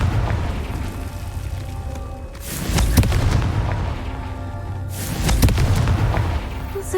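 Confringo blasting spells explode in the game Hogwarts Legacy: two heavy booming blasts a few seconds apart, each a sharp crack swelling into a rumbling roar over a constant low ambient drone.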